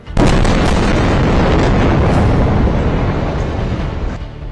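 Bombs explode in Gaza in a loud, sustained roaring blast that hits suddenly and rumbles on for several seconds before fading, with crackling debris throughout.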